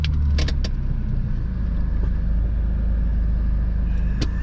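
A manual car pulls away in first gear, with a steady low engine rumble close by and a few brief clicks and rattles near the start.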